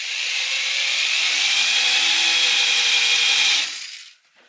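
Countersink reamer enlarging a tuner hole in a guitar headstock, a close, steady grinding hiss of cutting wood lasting several seconds before stopping abruptly, with no talk.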